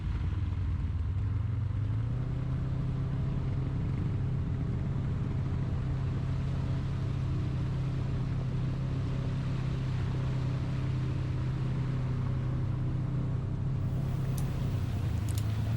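An ATV churns through deep mud with a steady low engine drone that holds at a constant level throughout, ending with a few faint higher clicks near the close, and no voices.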